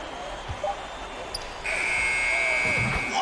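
Arena buzzer in the NBA 2K23 basketball video game sounds a steady, bright electronic tone for the last half of the moment, following quieter court noise and thumps, with commentator talk running underneath.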